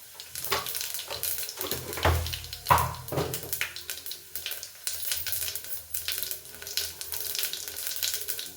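Cumin seeds dropped into hot oil crackle and sizzle steadily in a home kitchen pan, with a brief louder burst of spitting early on, then continuous close frying hiss with no talk.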